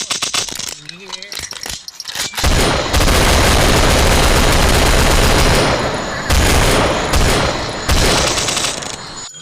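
Sustained bursts of automatic gunfire from a shooting video game, loud and close, in long rattling volleys, with a few short pauses and clicks before the firing begins.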